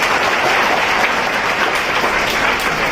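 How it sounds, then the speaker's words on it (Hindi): Audience of schoolchildren at a Jain school assembly applauding together, a dense, steady burst of clapping that fills the whole moment without pause, loud and close. "इसके लिए ताली बजाएंगे।"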